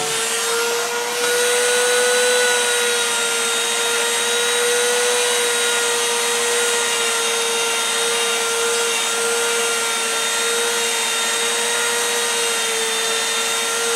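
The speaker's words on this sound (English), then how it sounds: "this right here is, I don't know, some kind of felt polisher" A felt polishing wheel runs steadily against a Kydex holster, giving a continuous high whining hum with a faint rubbing hiss that holds evenly for the whole stretch, close and fairly loud with no talking.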